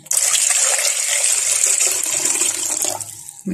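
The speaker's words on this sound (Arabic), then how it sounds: "هنحط بقى شوية مية" Water pours steadily from a container into a jar of pickled eggplant brine with vinegar and lemon juice, a close, continuous gushing splash that tapers off near the end.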